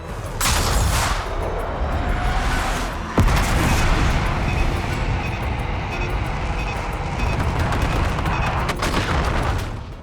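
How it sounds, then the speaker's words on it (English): Airstrike and gunfire in the video game Black Ops 6: rapid bursts of gunfire and booming blasts roll into a sustained, dense roar of explosions and shooting, loud and continuous throughout. "Then a whole country load of enemies rush us and we get to use the airstrike."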